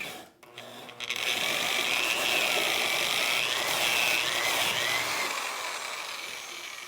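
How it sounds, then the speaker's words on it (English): A tenon is cut on the end of a wooden pole for rustic furniture, a steady close power-tool whine that starts after a brief clatter and holds for several seconds before easing slightly, no talking. "You need to be equally careful about cutting your tenon."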